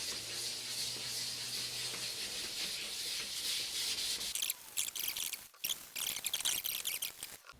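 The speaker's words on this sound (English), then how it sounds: "So here we are with the 800 grit, all wet." Steady, close rubbing hiss of 800-grit wet sandpaper working a surface, continuous at first and then broken into short, uneven strokes.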